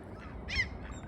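A single bright, brief bird call from a gull near the water in Bergen, Norway, rising clearly above a steady low background rumble, with no talking.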